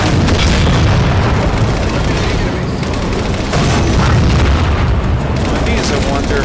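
Mantis tank in Halo 4 firing round after round, heavy booming blasts rolling into one another in a dense, loud barrage that fills the whole stretch without a pause.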